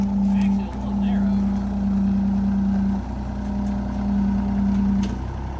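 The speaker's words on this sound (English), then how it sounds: "we can get the excavator all loaded up onto the trailer" Diesel excavator engine running steadily with a strong droning hum while the machine climbs onto a trailer; the tone wavers as the load shifts, with faint clanks and knocks over the continuous engine note.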